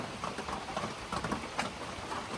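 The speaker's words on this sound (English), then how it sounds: "Now it's raining hard." Hard monsoon rain falling steadily outdoors, a dense, continuous hiss of drops with scattered louder patters, fairly faint and with no voices.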